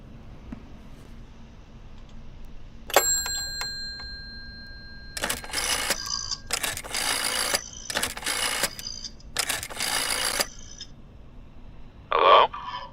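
An old-style telephone rings in the horror game Layers of Fear, giving several loud, rattling bell bursts in a row. A short electronic tone comes before them and a brief sharp chirp follows.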